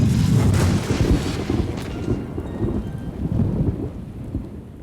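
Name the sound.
thunderstorm with thunder and rain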